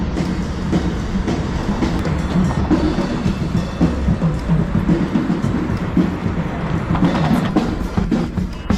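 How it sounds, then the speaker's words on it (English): A Toronto light rail tram rolls past close by, a continuous loud rumble of wheels on rails with rhythmic clacking and faint metallic squeals. "This light rail tram is the main means of transportation."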